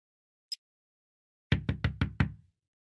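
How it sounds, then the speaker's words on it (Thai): Knocking on a door, five quick loud knocks in an even run, preceded by a brief faint high tick. "เสียงเคาะประตูดังขึ้นพร้อมเปิดออก"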